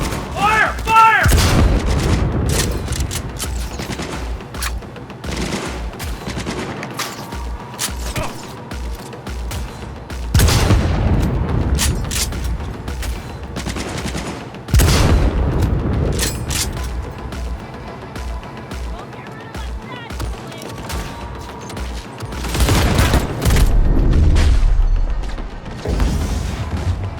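Gunfire in a Cyberpunk 2077 video game cutscene: loud, heavy bursts of shots and booming blasts come in waves, with mechanical clatter between them and shouted voices mixed in.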